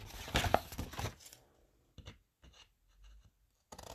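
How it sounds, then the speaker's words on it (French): Paper being cut while making a 30x30 mini album: a close rustling snip burst at the start, then sparse faint clicks and small cuts separated by quiet gaps. "je vais venir la couper."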